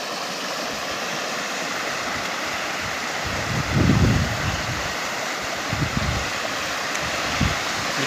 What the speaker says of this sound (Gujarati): આ નદીનું પાણી આવી રહ્યું છે વહેતું